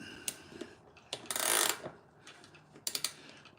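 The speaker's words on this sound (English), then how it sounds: "we're going to tighten our lock nut" Wrench tightening a bicycle hub lock nut, heard as a few sharp metallic clicks and a brief louder ratcheting burst, close and fairly quiet in a garage.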